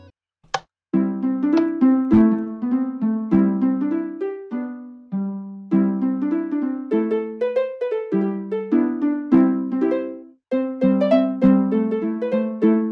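Bright plucked Minecraft note block notes play a melody, bouncy and steady in quick succession, blocky synthesized video game tones, with brief pauses between phrases.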